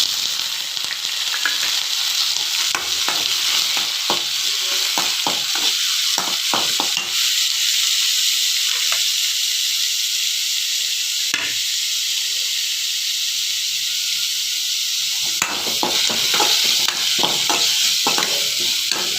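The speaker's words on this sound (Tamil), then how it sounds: "பெரிய வெங்காயம் ப்ரௌன் கலரில் வரும் வரைக்கும் நம்ம நல்லா வதக்கிக்கிடலாம்." Steady, crackling sizzle of large onions sautéing in a hot pan until brown, with occasional sharper pops and stirring scrapes throughout.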